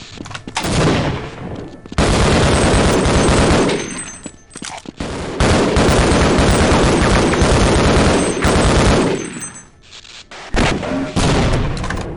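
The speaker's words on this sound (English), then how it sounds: "That's a grenade." Loud, dense bursts of rapid gunfire and booming blasts in the Half-Life: Blue Shift game, with a grenade among them, come in long sustained volleys separated by brief lulls, close and overwhelming.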